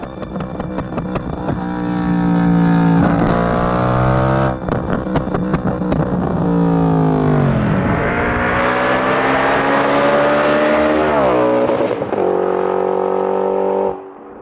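A supercharged Audi RS4 B7 with a Milltek exhaust revs hard and close, its loud engine note climbing and dropping in repeated pulls with a brief lift between them and a sharp cut at the end.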